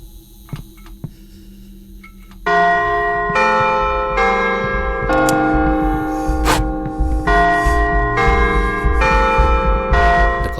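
Clock chiming in a Fredbear horror video game: after a quiet stretch of faint ticks, a loud, resonant bell-like chime strikes repeatedly in a steady rhythm, each stroke ringing on into the next.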